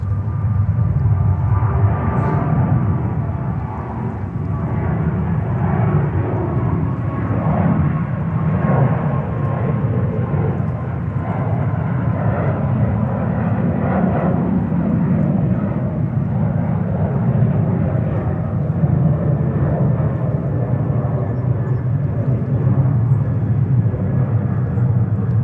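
A Condor airliner approaches to land on runway 22 left at JFK, its engines a steady broadband roar with deep low rumble holding loud and unbroken throughout, fairly near and without voices.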